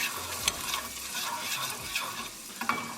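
Mustard seeds crackle and sputter in hot oil for a tadka tempering for restaurant-style moong dal, a dense close sizzle broken by sharp irregular pops over about three seconds, with no voices.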